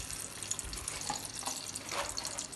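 A bay leaf and whole spices fry in hot ghee and oil for Kerala-style beef biryani, with a steady soft sizzle and crackle at moderate volume.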